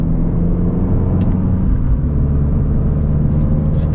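An Abarth 695 Edizione Maserati, a light car with nearly 200 horsepower, accelerates in second gear, its engine a steady loud rumble heard from inside the cabin.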